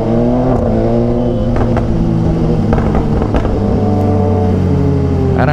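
A loud, close BMW S1000XR sport motorcycle engine revs hard and continuously, with sharp crackling exhaust pops breaking through the steady drone.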